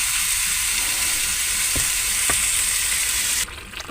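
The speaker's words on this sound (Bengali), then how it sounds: "বন্ধুরা ভালো করে নাড়িয়ে নেবে।" Turmeric being stirred into a pan for dhokla batter or tempering: a steady bright sizzle with a few sharp spoon scrapes against the pan, then the frying noise drops away near the end.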